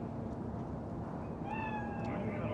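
A cat meows in a rising, drawn-out call near the end, set against a steady hum of game ambience in Cyberpunk 2077.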